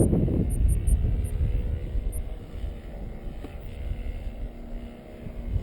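A model aircraft engine runs at half throttle into a strong wind at a model flying club, a steady buzzing drone heard from a distance amid gusty wind rumble, with no talk.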